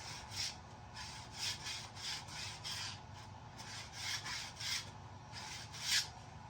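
A metal object, apparently part of a broken-down clothes dryer, being sharpened by hand with a rasp or file. Quiet, rhythmic back-and-forth scraping strokes repeat up close, with no talk.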